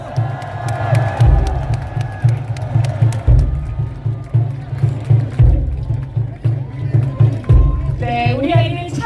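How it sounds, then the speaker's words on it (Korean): A crowd at an outdoor presidential campaign rally in Seoul City Hall Plaza claps and cheers under amplified music with a thumping beat, the crowd noise swelling in waves. "여러분 큰 박수 보내주시기 바랍니다."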